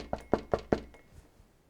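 Four sharp, evenly spaced knocks on a door at close range, followed by a couple of fainter taps, with no talking.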